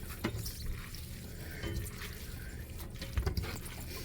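Cooked pasta being rinsed under running tap water in a kitchen sink for a pasta salad, a steady close rush of water with soft splashing and a few louder spattering bursts.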